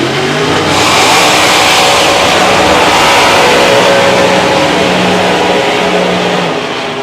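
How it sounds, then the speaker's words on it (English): Two supercharged Anglia drag cars, one big block and one small block, doing a pair of burnouts at a drag strip, a loud sustained engine roar close by that swells and holds before easing slightly. "That was shaking the tower, that pair of burnouts."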